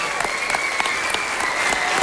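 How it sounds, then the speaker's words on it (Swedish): A television studio audience at a 1995 Swedish talent show final applauds steadily and warmly, dense clapping with some cheering filling the whole moment at an even, moderate level. "Folkets jubel."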